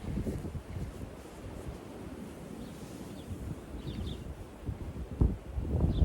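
Strong wind in a German snowstorm at minus six degrees, a loud continuous roar with buffeting gusts hitting the microphone, swelling near the start and again toward the end, with no talking.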